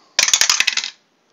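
Dice rattle and clatter across a table during a Glory III tabletop wargame, a quick burst of about six sharp clicks followed by a short rolling rattle that settles within a second, loud and close, with no talking.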